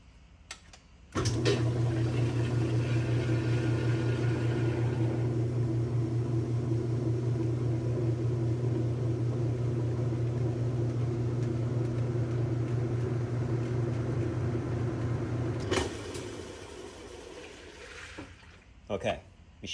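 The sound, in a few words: Whirlpool washing machine spinning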